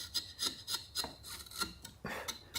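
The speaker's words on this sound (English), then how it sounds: "beveling the edges, like so" A carving tool rasps repeatedly along the edges of a wooden heart while bevelling them, a steady series of close, scratchy rubbing strokes roughly every quarter second, with no talk.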